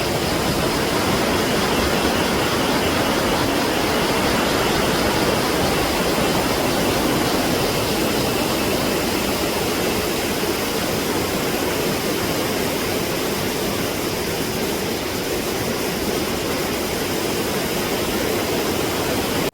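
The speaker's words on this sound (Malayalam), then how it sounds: "ഇതാണ് നമ്മൾ കാണാനുള്ള വെള്ളച്ചാട്ടം" A waterfall deep in a Kerala forest pours as a loud, unbroken broadband roar, steady and close throughout with no voices.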